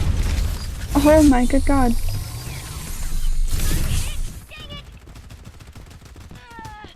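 Gunfire and heavy artillery blasts in the battle-royale video game Farlight 84 come as loud bursts and crackling volleys, with a player's excited shouting over the top.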